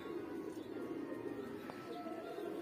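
Highflyer breeder pigeons coo softly in a loft, a low murmuring coo running continuously at moderate distance with a faint chirp mixed in.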